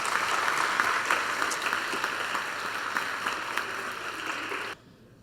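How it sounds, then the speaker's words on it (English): Applause from the audience for panelists at a conference panel showcase, sustained clapping at moderate distance that stops abruptly near the end. "please join me in a round of applause for our panelists"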